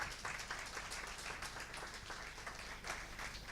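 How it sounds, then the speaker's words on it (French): Indoor audience applause at a Failcon Grenoble 2017 conference session, with dense, steady clapping holding evenly loud and close for the whole stretch. "vous pouvez applaudir, oui."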